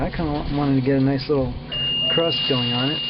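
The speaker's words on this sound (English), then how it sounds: "you can hear the alarm going off right now because my temperature probably dropped below what I wanted it to be" A Stoker temperature controller on a Big Green Egg smoker sounds a thin, steady electronic alarm tone that starts partway through and continues under someone speaking.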